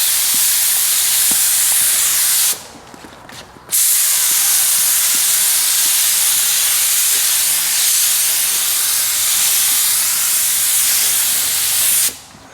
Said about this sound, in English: here he goes, painting my bumpers